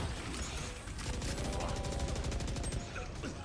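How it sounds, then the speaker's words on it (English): Rapid automatic fire from a Phantom rifle in a tactical shooter game, a sustained burst of evenly spaced shots running through most of the moment, with game sounds around it. "He sprayed his entire phantom clip twice."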